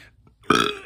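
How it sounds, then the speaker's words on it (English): A single short, loud, close burp with a voiced rasping tone, preceded by a faint breath. "Excuse me, I burped again."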